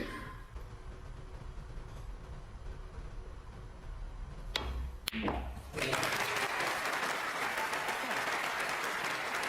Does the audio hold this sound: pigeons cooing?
no